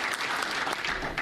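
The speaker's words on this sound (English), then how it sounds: "he deserves a huge round of applause" Senate Democrats applaud Harry Reid in a brief, dense burst of clapping from a crowd of listeners, steady and moderately loud.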